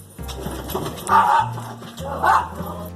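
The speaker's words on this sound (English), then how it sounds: "My dog Wendy likes to communicate with the neighbor's dog" Wendy, a pet dog, barks at the neighbour's dog outdoors in a garden, giving two distinct barks about a second apart that stand out over a low background hum.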